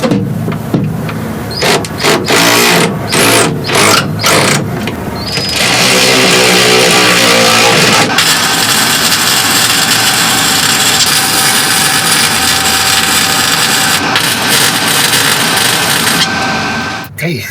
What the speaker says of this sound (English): that's it for the rough welds on the brake pedal